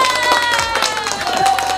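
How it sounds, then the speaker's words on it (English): A brief burst of clapping and cheering from a crowd, steady and dense throughout, like a canned round of applause. "That was just a quick round of applause."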